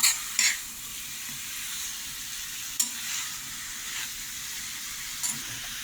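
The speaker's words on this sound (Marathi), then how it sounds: "चारी बाजूने हा छानपैकी असा तेलामध्ये गरम परतून घ्यायचा आहे" Cubes of elephant foot yam being sautéed and turned in hot oil give a steady soft sizzle throughout, with a few brief sharper crackles and spoon-stirring scrapes.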